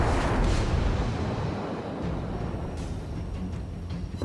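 Naval gun salvo from a cruiser in World of Warships, a deep rumbling boom that rolls on as a loud, sustained low roar with crackling debris, alone without talk.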